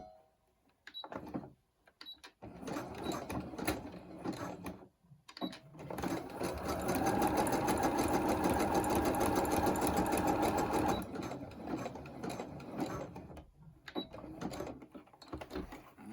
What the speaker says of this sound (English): then do a zigzag stitch